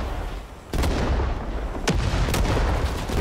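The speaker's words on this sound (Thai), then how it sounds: "ระเบิดระเบิดโอ้โหมันสแปนระเบิดมาแบบไม่หยุดเลย" In a Vietnam War shooter video game, several heavy booms of grenade explosions go off close by, one after another, each a loud blast trailing into rumble.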